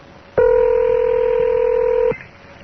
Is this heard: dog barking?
no